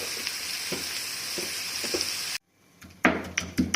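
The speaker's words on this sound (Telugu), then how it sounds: "ఆనియన్స్ ఫ్రై అవుతున్నాయి కదా" Salted onions fry in a pan with a faint, steady sizzle, then a brief hush before a few close scraping stirs, with no talking.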